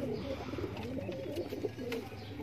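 Pigeons coo softly in a steady, rolling rhythm, several birds close by with no talking.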